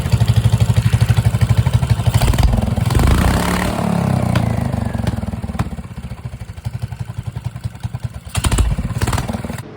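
Small mini bike engine with a torque converter sputters to life and runs with a rapid, loud thumping idle, blipping up into a few revs before settling back, heard close with no talk.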